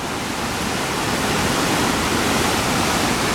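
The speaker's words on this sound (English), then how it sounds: "There's water running everywhere around here." Flooded Pitt River rushing below a footbridge, a dense, steady roar of churning whitewater that fills the whole clip, loud and close with no voices.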